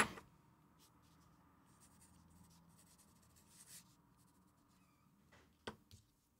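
Parker fountain pen nib scratching across paper in a quiet room, several faint continuous writing strokes with brief rubbing bursts and a sharper scrape near the end.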